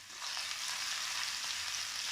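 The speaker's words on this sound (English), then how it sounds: "that's the point at which we will add our onions and allow that to sizzle away." Onions sizzling in hot oil with spices in a pan, a steady, loud, close frying hiss that starts just after the first moment and holds evenly throughout, with no talking.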